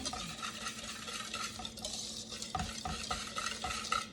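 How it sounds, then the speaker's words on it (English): A whisk mixes flour, salt and sugar in a bowl with quick, rhythmic scratching taps against the bowl's sides, close and steady, over a faint low hum. "So in order to sift that together, I'm going to use my whisk"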